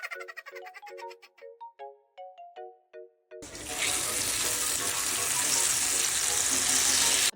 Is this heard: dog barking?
no